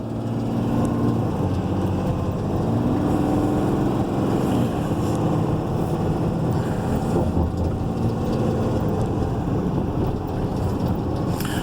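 Steady low diesel drone of a 2014 Dodge Ram 5500 rollback flatbed truck, heard from inside the quiet cab, a continuous even rumble with road and wind noise and no talking.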